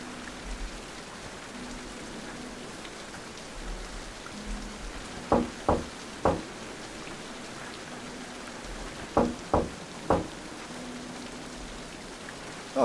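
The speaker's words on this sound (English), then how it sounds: "All this rain should help this tree grow." Steady rain pours throughout in the King's Quest video game, a dense even hiss with a few sharp knocks and low tones breaking through, no talking.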